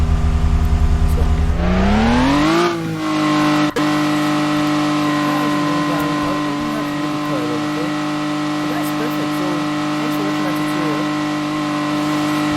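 Engine of a car in a Unity-built GTA-style video game, steady synthetic hum that rises in pitch as it speeds up, then holds a sustained drone with faint background chatter.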